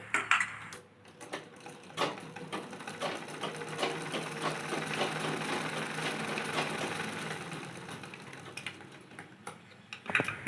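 A domestic sewing machine stitches steadily after its lower bobbin case tension has been loosened, giving a continuous close mechanical whir that runs for most of the stretch, with a few louder clicks near the start and end.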